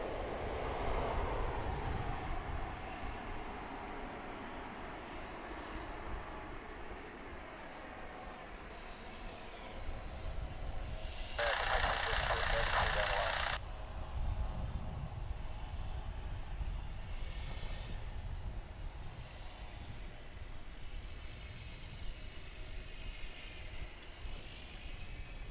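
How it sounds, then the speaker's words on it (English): CRJ 900ER airliner at DFW International Airport, its engine roar a steady, fairly faint wash heard from a distance, with a short bright tonal burst partway through. "And that was a CRJ 900ER, if you're keeping score."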